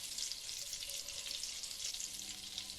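Butter and ghee heat in a pot for Dhaka-style beef biryani, giving a soft, steady high sizzle that stays even and fairly faint throughout, with no voices.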